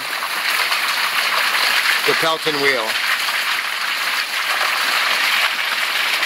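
Water pours steadily from a three-inch pipe feeding a micro hydro Pelton wheel at a jungle lodge, a loud, continuous broadband rush with a brief spoken phrase over it.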